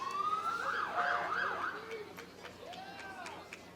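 Emergency vehicle sirens wail in rising and falling sweeps during a Christmas parade, loud and close with a second siren joining later amid crowd noise.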